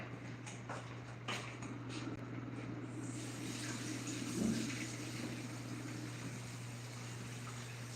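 Tap water runs steadily while small potatoes are rinsed in a kitchen sink, a continuous mid-level splashing stream with a low hum underneath and a few faint knocks, no one speaking.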